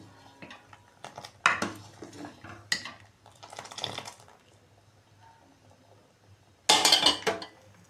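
Cardamom powder is stirred into rice kheer in a pot, with a spoon clinking and scraping against the metal in a few separate bursts, the loudest near the end, between quieter gaps.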